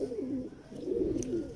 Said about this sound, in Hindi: ये मेरे बड़े ही खूबसूरत कबूतर है।